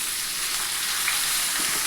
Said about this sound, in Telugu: గోంగూర ఉడకబెట్టుకోవడానికి ఆయిల్ వేసుకున్నాను.